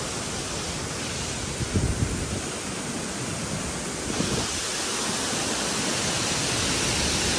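Steady broadband roar of rushing water at Alakapuri Waterfalls in Kanjirakolli, Kannur, heard near and continuous for the whole stretch, with faint low thumps of wind or handling and no talk.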